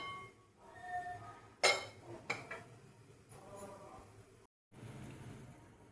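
A metal lid is lifted off a cooking pot of steamed sathu maavu kozhukattai dumplings, with a sharp clank and a lighter clink over quiet kitchen background.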